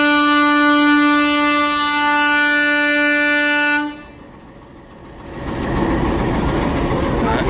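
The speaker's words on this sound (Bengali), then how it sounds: "এই ট্রেনটাও তার গন্তব্যস্থলের উদ্দেশ্যে যাত্রা শুরু করে দিয়েছে, ট্রেনটা ছেড়ে দিয়েছে।" A local train leaves the station: a loud, sustained horn blast for several seconds cuts off, and after a brief lull the heavy rumble of the carriages rolling away swells up close.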